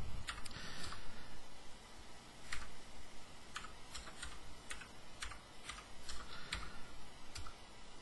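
Keys clatter on a Z80 computer keyboard as a BASIC program is typed in, an irregular run of close, light clicks and taps over soft room noise, no talking.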